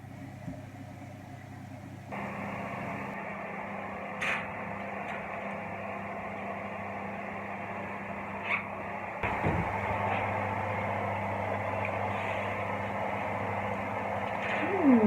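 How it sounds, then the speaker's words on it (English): A kitchen oven hums steadily while lemon bars bake, a constant low drone with a faint fan-like whir, broken by a few brief clicks and a small thump partway through. "Now we need to put this in the oven."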